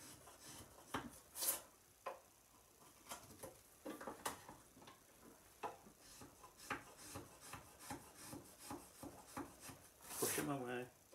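Small wood shavings are pared by hand for a peg joint, giving soft, irregular scraping and rasping strokes close by, with a brief louder scrape near the end.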